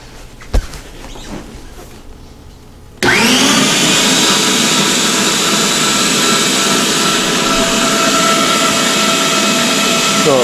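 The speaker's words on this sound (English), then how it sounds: "All sliced up and nowhere to go but into the Home Geek meat grinder" Home Geek electric meat grinder grinding pork through a medium plate, starting abruptly after quiet handling noises and then a loud, steady motor whir that runs continuously.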